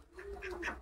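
A single short, faint quack from domestic ducks on a poultry farm, heard alone against quiet background noise.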